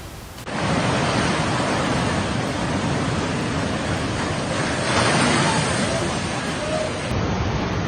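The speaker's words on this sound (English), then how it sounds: "Tidal bore waves are a fascinating natural wonder and also a source of pride for the region." Tidal bore waves surge in a loud, continuous, broadband rushing roar that starts abruptly and holds steady throughout, with possible wind noise mixed in.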